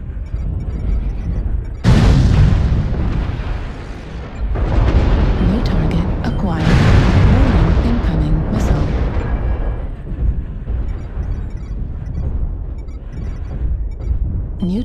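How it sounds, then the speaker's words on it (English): Artillery strike explosions in a video game, several heavy booms and rumbling blasts in succession, loud and close, with a radio-style voice calling out over them. "Artillery strike online. Artillery strike activated."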